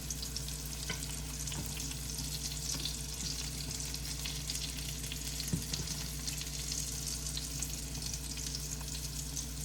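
Thick pieces of salmon fry in a pan with a steady, close sizzle and soft crackles that continue unbroken, with an occasional faint tap.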